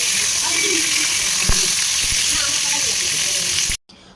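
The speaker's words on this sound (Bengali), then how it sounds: "প্রথমে মাছের মাথাগুলোকে ভালো করে ভেজে নিলাম, তারপরে ওই দাগা লেজা যা থাকে সেগুলোকে ভেজে নিলাম" Fish heads and tail pieces sizzle loudly in hot oil, a continuous close hiss with a couple of light utensil knocks, cutting off abruptly near the end.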